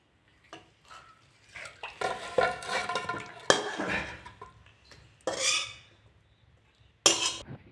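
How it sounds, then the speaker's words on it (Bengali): Cooked moong dal and milk mixture for bakul pitha poured and scraped from a pot into another vessel, a series of soft wet clatters and metallic scrapes in separate bursts, close and fairly quiet. "এবার আমি পাত্রে ঢেলে নেব।"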